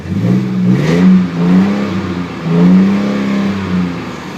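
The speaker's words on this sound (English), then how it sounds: "I'll show you guys the sound of the exhaust." A 2003 Chevy 1500 pickup engine revs in a few rising and falling surges, a deep rumbling exhaust note swelling and easing close by, with no talking.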